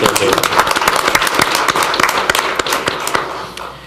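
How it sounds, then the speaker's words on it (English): Applause for a group of young ladies at a Tupelo city council meeting: a brief burst of many hands clapping in a council chamber, steady then tapering off toward the end. "Can we please give them a round of applause for the great job that"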